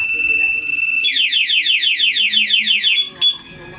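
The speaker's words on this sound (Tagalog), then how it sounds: "Testing natin yung remote with alarm, two-way alarm." Two-way remote alarm on a Yamaha Mio Sporty 115cc scooter: a steady two-tone beep gives way to a rapid, loud rising warble that repeats for about two seconds, then cuts off with a short chirp.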